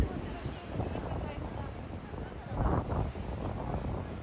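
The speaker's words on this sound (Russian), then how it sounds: "На широких улицах сразу слышен и ощущается февральский ветер" February wind blowing along a wide street in Japan, a steady broadband rush with gusting swells close to the microphone, with faint voices underneath.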